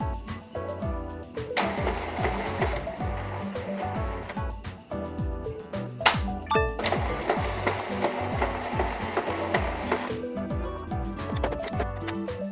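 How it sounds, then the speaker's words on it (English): An Epson L121 inkjet printer running its ink-charging cycle, the print head shuttling back and forth with repeated whirring and rattling mechanical strokes, a sharp clack midway, steady and close with no voices. "printer head is doing weird noises."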